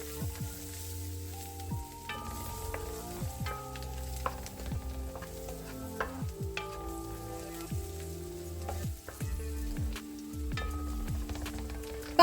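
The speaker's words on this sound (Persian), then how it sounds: "بعد از اینکه ادویه ها رو اضافه کردم هم میزنم و میذارم تا ادویه ها تف بخورن" Spices sizzle and fry in a pan while being stirred, a continuous close crackling hiss with soft scraping strokes of the spoon throughout, no voices.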